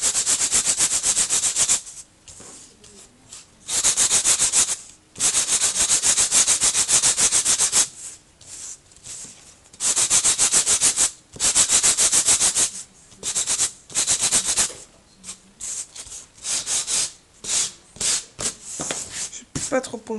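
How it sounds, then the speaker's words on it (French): A sanding block lightly rubs over embossed paper card in a scrapbooking craft, giving loud, close, gritty scratching strokes in irregular bursts with short pauses between them. "Vous allez frotter légèrement là où c'est embossé"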